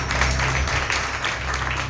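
Congregation applause during a Telugu church sermon, a continuous moderate patter of many people clapping together for about two seconds with no voices over it.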